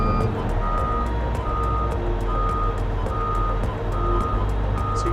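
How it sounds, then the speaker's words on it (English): Rear backup radar proximity alert on a Hyundai HL985 wheel loader: a rapid string of evenly spaced beeps over the loud, steady rumble of the idling machine, with no talking. "it gives you proximity alerts as you start to back up, this has a backup radar built into it, just like an automobile"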